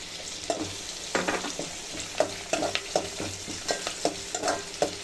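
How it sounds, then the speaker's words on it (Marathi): Two finely chopped onions sizzle in a pan while a spoon stirs them, giving steady frying hiss broken by repeated close scraping clicks, with no talking. "आता आपण कांदा टाकूया. कांदा टाकतो."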